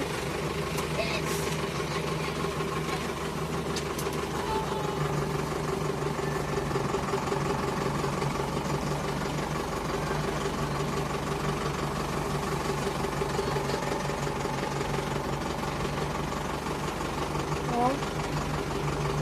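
Zetor Proxima 90 Plus tractor with a Pronar trailer driving forward while hauling silage, its engine a steady loud drone with knocking texture throughout, close by, with speech over it.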